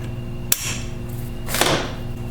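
Hammer strikes knock out pins while a Spartan locker is installed in a Dana 44 TTB front axle of a Ford F150: two sharp metallic blows about a second apart, close, over a steady background hum.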